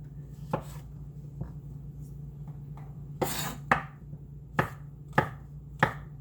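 A knife chops through vegetables on a cutting board while preparing a spicy pork roast, with several sharp, separate thuds at irregular intervals over a steady low hum.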